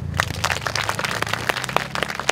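Steady applause from a crowd of professors and students at a debate forum, many hands clapping together in a continuous, moderately loud patter.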